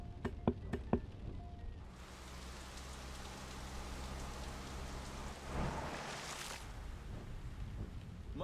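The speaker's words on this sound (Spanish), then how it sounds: "Mira la lluvia, tío, se ve brutal" Rain pours steadily in the video game Like a Dragon: Infinite Wealth, a soft broadband hiss after a few opening clicks, with a low engine-like hum underneath and a brief swell near the end.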